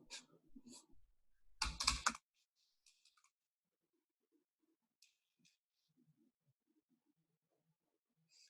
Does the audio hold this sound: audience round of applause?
no